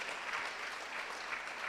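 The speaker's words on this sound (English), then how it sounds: "Give a round of applause for all of our winners and nominees at the second Reality Wrestling Rowards" An audience at a wrestling awards show applauds its winners and nominees with a steady, even wash of clapping that sounds fairly distant and quiet, with no talk over it.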